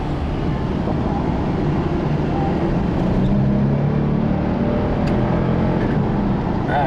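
A 1995 Ford Taurus SHO accelerating hard in first gear, heard from inside the car as a loud, continuous engine roar rising in pitch over several seconds, with no talking.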